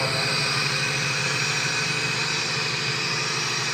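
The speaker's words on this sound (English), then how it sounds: "Let's listen as the soldiers start one of the big engines" A large engine at the Oliver Hill coastal gun battery on Rottnest Island, started with compressed air, gives a loud, steady, close rumble with a rapid low pulsing throb that runs unbroken throughout, with no voices.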